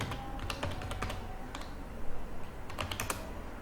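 A gcc compile command typed on a computer keyboard: close, crisp clicking keystrokes in quick irregular bursts with short pauses, alone with no speech.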